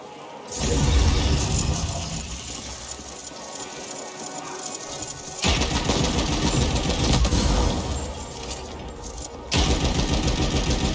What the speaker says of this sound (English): Let's give this gun a bit of a run.